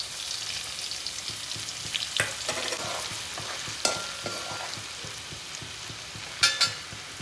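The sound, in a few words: garlic added to hot pan, sizzling and stirring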